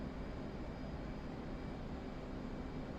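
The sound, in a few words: jet aircraft engine coming off afterburner, DCS flight simulator video game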